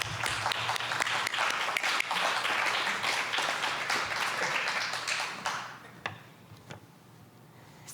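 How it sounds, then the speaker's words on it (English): A board of education meeting audience applauds, a full, steady rattle of many hands that drops off abruptly after about five seconds, leaving a few scattered claps and room noise. "can we give a round of applause for these guys?"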